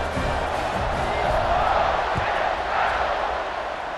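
A packed stadium crowd in EA Sports College Football 26 keeps up a steady, dense roar with scattered shouts around an LSU kickoff, continuing without a break throughout.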